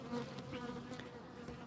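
Killer bees buzz in a steady, close drone, a continuous insect hum with no voices present.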